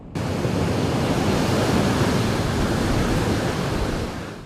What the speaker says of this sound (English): Cameron, definitely some big breakers tonight.